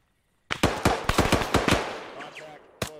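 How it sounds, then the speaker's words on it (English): Rapid loud blasts of mortar and weapon fire in the military shooter ARMA 3, a quick burst of sharp reports followed by a lone crack after a pause. "Drum's using that mortar."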